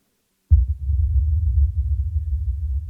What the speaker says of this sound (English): you hear this like drum that's like really big and kind of far away